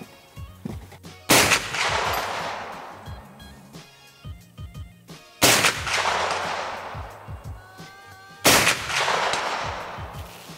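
Three loud, close gunshots from a Big Horn 500 Auto Max firing Hornady XTP rounds at an outdoor range, each a sharp blast with a long ringing decay, spaced several seconds apart with quiet shuffling between.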